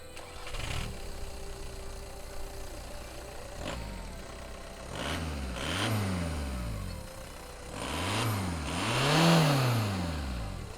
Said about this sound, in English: here we are on our onboard drive in the 2003 Volkswagen Jetta